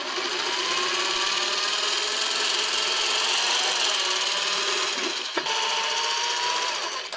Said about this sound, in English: drilling these holes with this diamond bit